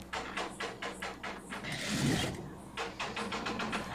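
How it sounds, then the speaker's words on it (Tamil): A sewing machine stitching blouse fabric with a quarter-inch seam, giving short mechanical bursts of rapid clattering, briefly pausing then resuming, fairly faint and close with no talk. "ஒரு 1/4 இன்ச் அகலத்தில் நான் வந்து தையல் போட்டுக்கிறேன்"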